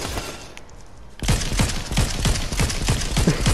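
Rapid bursts of gunfire from a Fortnite match crack out after about a second of quieter background, then keep going in a dense, loud, steady rhythm to the end.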